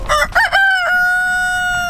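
A rooster crows loudly and close by in a garden, first with several choppy opening notes and then one long held tone that fades out gradually.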